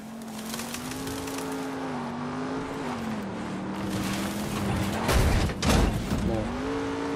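A car engine hums steadily in Far Cry New Dawn, its pitch rising and falling as the vehicle drives along, with a louder rushing burst near the end.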